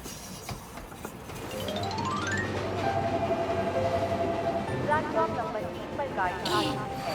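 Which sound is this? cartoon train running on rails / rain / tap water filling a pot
cartoon train running on rails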